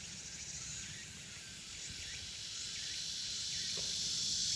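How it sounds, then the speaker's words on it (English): A constant high-pitched insect drone of cicadas hums faintly in the background over low outdoor rumble, with no voices. "You can hear the cicadas."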